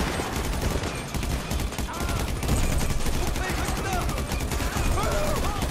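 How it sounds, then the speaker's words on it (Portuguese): Rapid bursts of gunfire from an enemy shooting at the player in a shooter video game, dense continuous fusillade with overlapping shots, loud and close, alongside game sounds. "Olha lá o cara me atirando lá."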